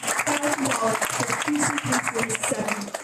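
An audience claps steadily at a community grant check presentation for the Guam Fire Department. The applause is moderately loud and runs under a speaker announcing the award amount.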